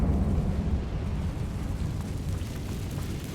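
The Incendio fire spell in the video game Hogwarts Legacy is cast as a loud, roaring, rumbling burst of flame. The blast stays heavy and continuous and eases off slightly toward the end.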